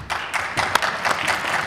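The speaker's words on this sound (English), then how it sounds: "we heard the applause not for our responses, but for the questions" Audience applause at an infrastructure and growth forum, steady broadband clapping from a room of listeners lasting under two seconds, moderately loud with a few sharper individual claps standing out.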